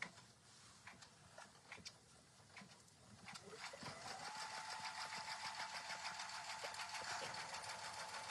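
A sewing machine stitches a freestanding embroidery design on quilting cotton, a fast steady mechanical whir with rhythmic ticking that builds and then runs evenly at close range, faint overall.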